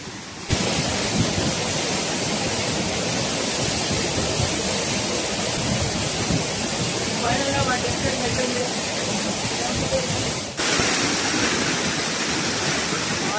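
A loud, steady roar of Bogatha Waterfall fills the whole clip, broadband and constant, with a brief dip near the end before it resumes.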